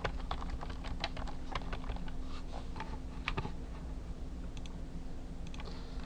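Steady typing on a computer keyboard, a quick run of close, light key clicks over a low hum with no talking.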